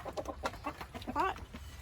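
A rooster clucks in a quick run of short, bright calls close by, with one louder rising call near the end over a low backyard rumble.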